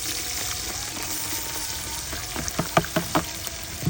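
Onion frying in groundnut oil for a rajwadi khichdi, a steady soft sizzle throughout with a few louder crackles and spatters near the end, no talk.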